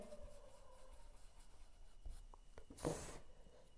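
Pen scratching on paper as a maths answer is written out in a Class 6-7 workbook, with soft intermittent strokes and one brief louder rub, close and quiet, no talking.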